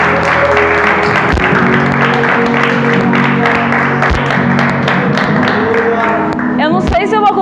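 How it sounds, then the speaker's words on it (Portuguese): A church congregation applauds during worship, with loud, sustained clapping under a strong voice and steady musical accompaniment. A few thumps punctuate it. "Quem puder, aplaude o nome de Jesus."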